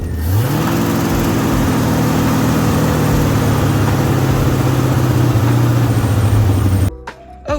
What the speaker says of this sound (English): So we're about to start it up and see how the Torino runs.